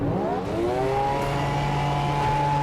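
A race car engine in Project Motor Racing revs and climbs in pitch, a loud, continuous close-up mechanical whine that rises then holds steady, with no talk over it.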